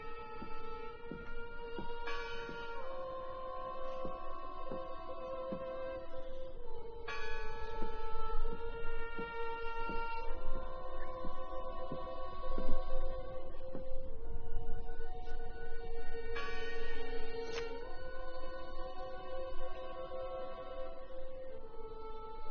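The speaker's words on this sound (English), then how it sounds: "Listen! The bell!" Church bells ringing in the video game Draugen, a steady sustained peal of overlapping tolls with bright ringing overtones, fairly loud and continuous, with fresh strikes every few seconds and no talking.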